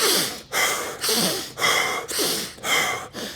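Wim Hof-style power breathing: a rapid series of six big forceful inhales and exhales in a steady rhythm, loud and close with no talking.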